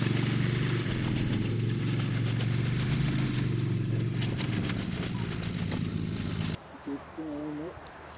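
Farm bike engine running steadily and fairly loud during fencing work, then cutting off near the end, followed by a brief voice.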